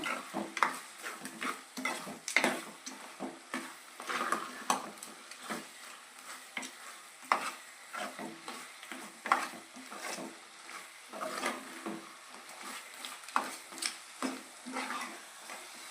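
A spoon stirs chicken curry in a pan, scraping and clinking in irregular strokes over a steady sizzle, close up and moderately loud, with no talking.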